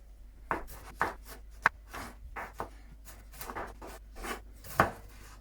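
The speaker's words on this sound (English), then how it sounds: "Now we're going to chop our tomatoes." Tomatoes are chopped on a board for Caribbean-style chickpeas and kale, about a dozen crisp knife strikes in an uneven rhythm, close but fairly quiet, with a few sharper thuds among softer slicing cuts.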